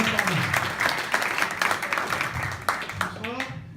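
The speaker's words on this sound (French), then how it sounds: "les applaudissements d'Amiens." Audience at a comedy show in Amiens breaks into sustained applause, a dense wash of clapping mixed with cheering and crowd voices that stays loud throughout.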